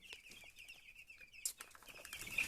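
Cobb 500 broiler chicks peep and cluck steadily while feeding, with a constant high chirping line, soft pecking and scattered rustles and brief wing flutters nearby.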